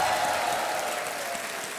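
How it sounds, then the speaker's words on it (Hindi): A studio audience at the Kaun Banega Crorepati game show applauds steadily and loudly throughout, a dense, even wash of clapping with little voice on top. "ताली बजती रहे।"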